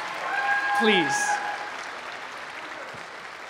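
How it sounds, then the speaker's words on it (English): Audience at a spring music studio recital gives a round of applause, the clapping rising briefly under a short spoken word and then thinning to a soft, dwindling patter. "can we have a round of applause?"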